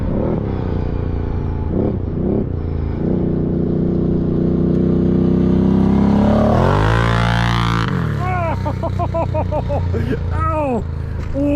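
An ATV engine fitted with an SLG exhaust pipe idles with a steady throaty drone, then revs up and down in rising and falling sweeps, loud and close throughout.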